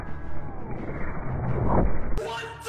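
Gunfire from a headshot in the video game Call of Duty Black Ops 4: a loud, dense burst of shots and booming impact noise, ending in a sharp bright crack.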